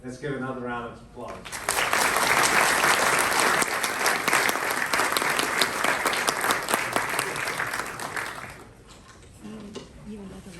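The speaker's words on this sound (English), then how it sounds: "Let's give another round of applause." A university physics and astronomy graduation crowd gives a full, loud round of applause that swells, holds for several seconds and then fades. Speech comes just before and after the clapping.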